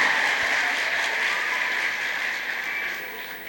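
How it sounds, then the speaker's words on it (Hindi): Audience applause at a Hindi poetry gathering at Sankat Mochan Group of Institutions in Sultanpur: a steady, fairly even wash of clapping that fills the whole stretch and thins slightly toward the end. "एक बार जोरदार तालियों से सूचित कीजिए"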